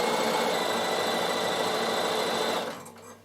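A Bernina sewing machine stitches wool applique on a draught stopper, a fast, even whir of needle strokes running close and loud before stopping abruptly near the end.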